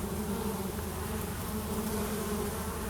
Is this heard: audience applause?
no